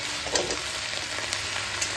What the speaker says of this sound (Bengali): একটু ভালো করে উপর থেকে নিচে অবধি নাড়াচাড়া করে ভালো করে নাড়াচাড়া করে নিই সুন্দর করে